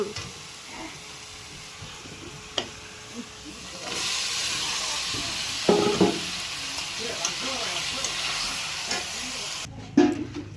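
Meat cooking in a pan on a home stove, a broad steady sizzle and hiss that swells partway through, with occasional utensil knocks and stirring scrapes up close.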